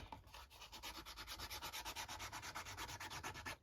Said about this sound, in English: I'm going to take an emery board and we are going to go just round the edges